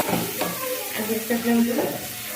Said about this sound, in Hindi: और तेजपत्ते को प्याज डाल देंगे